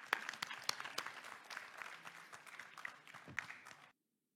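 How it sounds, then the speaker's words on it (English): Audience applause at a meeting as a minister is invited to take the floor: dense, steady clapping from a crowd for about four seconds, then cutting off to silence. "please a big round of applause"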